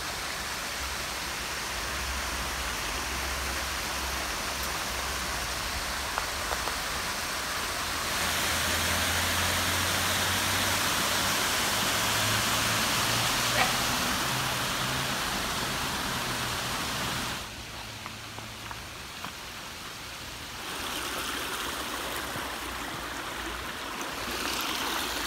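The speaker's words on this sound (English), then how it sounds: "look at the waterfall" A waterfall in a park nature reserve roars as a steady, broad rush of falling water, loud and constant throughout, with no voices.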